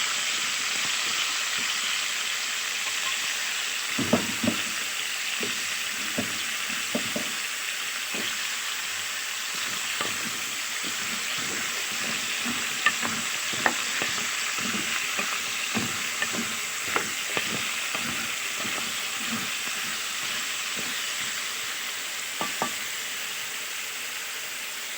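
Large cubed potatoes sautéing in a pan, a steady sizzle under scattered scraping and stirring clicks from a utensil, close and moderately loud.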